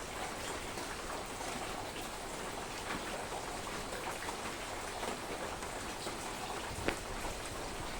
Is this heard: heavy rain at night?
yes